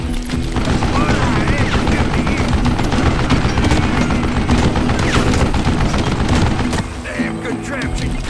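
A mounted gun in a Western shootout from Call of Juarez Gunslinger fires continuously in dense, loud rapid bursts, mixed with other game noise, and eases off near the end.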